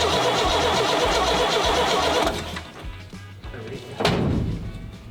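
Classic C60 farm truck engine cranking with rhythmic, loud chugging pulses before dropping off, followed by quieter rattles and a sharp clunk.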